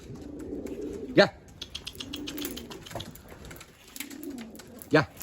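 Soft, low homing pigeon coos repeat in short phrases, with a couple of sharp flapping bursts and faint chirps around them.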